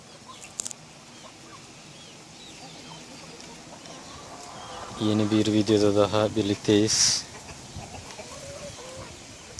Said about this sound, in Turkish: Tavuklarımız